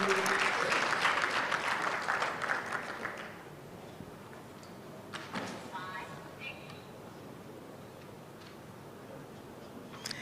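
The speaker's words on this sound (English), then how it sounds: "A round of applause for infrastructure group." Applause from a forum audience in Kumasi for a presenting group, a dense burst of clapping for about three seconds that thins to scattered claps and quiet murmuring.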